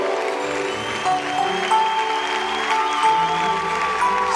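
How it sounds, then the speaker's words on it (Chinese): An audience applauds a school student string orchestra, a dense, steady clatter of clapping at moderate loudness, with sustained instrument tones ringing beneath it throughout. "是不是再给这些孩子们更热烈的掌声？"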